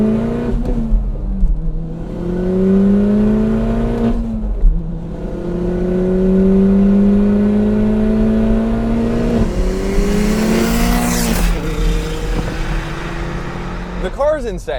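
A 500 HP all-wheel-drive Mini Paceman JCW engine revs hard as it accelerates in first gear, the pitch climbing steadily in long pulls, with a brief lift before revving up again; loud and close.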